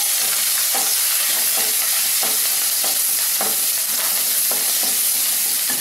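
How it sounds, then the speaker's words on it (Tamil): Onions, curry leaves, asafoetida and turmeric fry in sesame oil for a mango chutney, giving a steady close sizzle broken by soft scraping stirs. No one talks. "வெங்காயம் இந்த எண்ணெயிலேயே நல்லா வதங்கி வேகிற அளவுக்கு நல்லா வதக்கிடுங்க"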